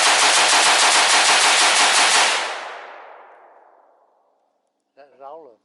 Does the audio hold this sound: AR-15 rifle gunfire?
yes